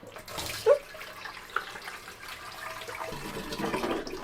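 Very cold water with a chunk of ice in it is poured into a 2-gallon container, giving a steady running splash. One sharp spike sounds near the start, and the flow swells louder toward the end, with no voices.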